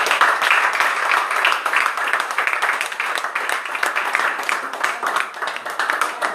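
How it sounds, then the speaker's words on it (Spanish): A church congregation applauds steadily for several seconds after a sermon prayer, producing dense, even clapping at moderate loudness with no voices on top. "Den un aplauso al Señor Antonio."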